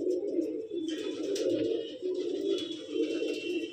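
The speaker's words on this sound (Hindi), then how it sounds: "और भाई काफ़ी सारे कबूतर आ चुके हैं" Pigeons of a pure bloodline for sale in Delhi coo steadily in low, rolling, overlapping calls, close and continuous, with faint chirps and scattered noises above.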